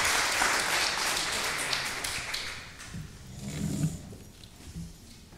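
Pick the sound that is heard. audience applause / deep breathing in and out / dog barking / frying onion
audience applause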